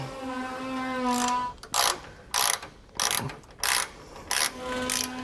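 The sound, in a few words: ratchet tightening a nut on anti-sway bar bracket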